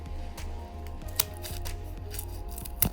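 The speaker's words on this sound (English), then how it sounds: "But I'm gonna cut it just for you guys." Scissors snip through a silicone pop-it fidget toy in repeated short, crisp cuts close up, with faint rustling between the snips.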